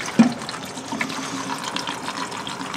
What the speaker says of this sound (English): So now we're just gonna add some water.